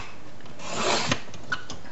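Close rasping rub of scissors or a trimmer cutting along the edge of an A4 paper sheet, one soft scraping pass with a couple of tiny clicks at the end.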